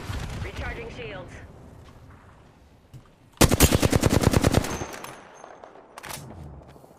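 A rapid, loud burst of automatic weapon fire in Apex Legends runs about a second, with sparser shots afterward; a voice talks over the game sounds beforehand.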